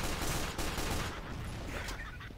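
Rapid, dense gunfire in Team Fortress 2, a loud continuous burst of overlapping shots that thins out slightly toward the end.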